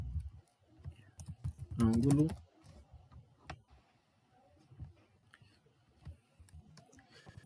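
Computer keyboard typing during a physics lecture on vectors, light scattered clicks running through the clip at moderate distance, with a brief voice or tone in the middle and quiet background.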